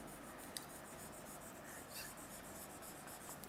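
Pen or pencil writing the word museum by hand, a soft continuous scratching and rubbing of strokes across paper, faint and close, with no one speaking.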